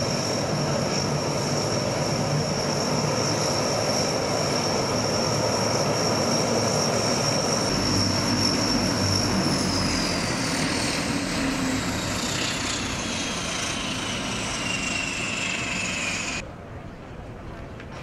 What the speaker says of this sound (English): I was able to get on a C-130 to Cebu.